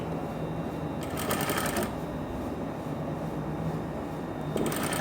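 A sewing machine stitches along the margin of a pair of trousers with a front belt and elastic back, a steady mechanical whir that surges in two short loud bursts over a constant background hum.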